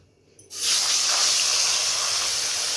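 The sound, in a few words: fish added to hot oil in a wok, sizzling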